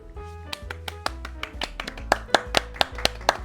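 Sparse, separate hand claps ring out one after another, about a dozen sharp strikes over a faint sustained musical tone, growing slightly louder and quicker toward the end.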